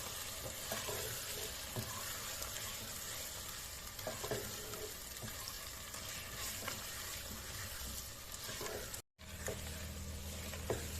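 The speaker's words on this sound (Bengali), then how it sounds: "মাংসগুলো দিয়ে নাড়তে হবে ভালো করে" Meat pieces frying and being stirred in a pot with ginger and garlic for Hyderabadi tahari, a steady close sizzle with scraping stirs and brief crackles, cut by a momentary gap near the end, no speech.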